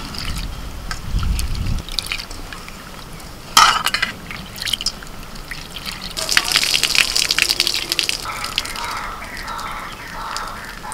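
Sago pearls are rinsed in plain cold water in a home kitchen, with water gushing and splashing in uneven bursts, swishing and pouring at close range, louder in the middle of the stretch.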